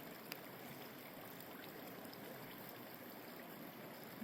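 Steady creek water flowing and trickling, an even rushing wash with no voices, moderately quiet and continuous throughout.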